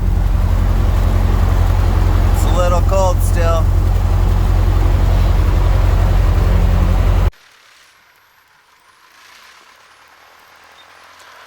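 Piper light aircraft engines, a Tri-Pacer, a Cherokee and an old Sky Tractor, run on a cold Wyoming morning as a loud, steady low drone under a man's brief remark, then drop away to near quiet.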